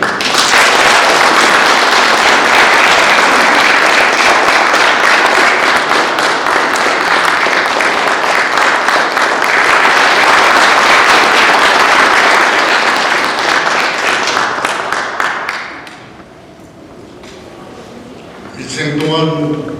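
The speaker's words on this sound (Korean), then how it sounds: "이장호 감독님을 큰 박수와 함께 단상으로 모시도록 하겠습니다" Sustained loud audience applause welcoming a film director to the stage at a Korean forum, dense clapping for about fifteen seconds that then fades, with a voice starting to speak at the end.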